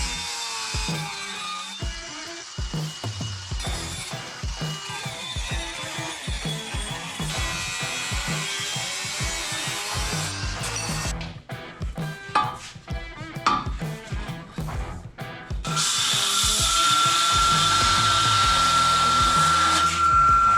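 A power tool cuts through a piece held in a vise, buzzing and chattering in uneven bursts before settling into a steady loud whine near the end, with no talking.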